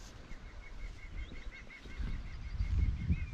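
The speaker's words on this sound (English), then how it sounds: "That bird is making such a funny noise at the other side." A bird gives a funny goose-like honking call from across open Scottish bogland, a string of faint, repeated honks carried at a distance over steady wind rumble.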